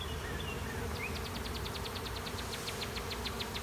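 A honey bee swarm moving into an empty hive in a driveway gives a steady low buzzing hum, heard close, with a quick run of faint ticking over it.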